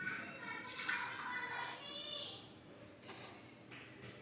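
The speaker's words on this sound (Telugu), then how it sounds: "నేను నీళ్ళు పోసుకుంటున్నాను" Water being poured into a pot for making tea, a soft trickling stream that fades midway, followed by a few faint clinks, quiet and alone.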